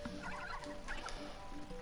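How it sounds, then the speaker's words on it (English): Turkey-like gobble snoof creatures in a King's Quest adventure game let out repeated gobbling, clucking calls in short bursts over a steady game ambience with a faint tonal hum. "Things are the equivalent of turkeys."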